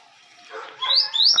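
A pet capuchino seedeater sings in a cage, giving a couple of brief, high, rising whistled notes after a quiet, noisy start.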